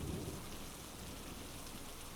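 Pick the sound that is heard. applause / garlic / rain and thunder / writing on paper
rain and thunder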